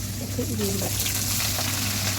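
Bottle gourd pieces fry in a pan, giving a steady, close hiss of sizzling oil that runs unbroken throughout, with a faint low hum beneath it.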